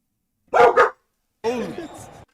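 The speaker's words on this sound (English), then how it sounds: "Sorry, my dog's going crazy." A dog barks indoors: a quick double bark, then after a pause a longer, whining bark or yelp, loud and close, with little else around.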